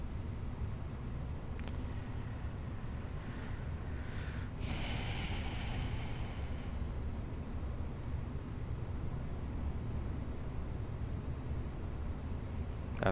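Airbus A321 engines start up, heard from inside as a heavy, constant roar with a rising whoosh swelling midway before settling back into a steady drone.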